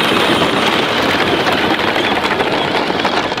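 Toy tractor engine running steadily while digging up a treasure chest, a continuous close buzzing drone with no pauses.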